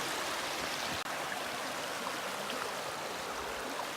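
Steady, broadband rushing of stream water at a creek crossing in Red River Gorge, continuous and close, with no voices.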